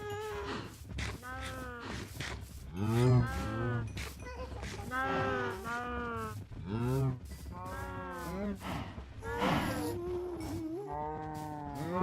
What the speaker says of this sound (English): I'm kiting a herd of cows.